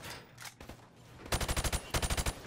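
Video game guns fire from the hip in two rapid bursts of automatic fire, loud and close, after a quieter stretch with a few scattered sounds.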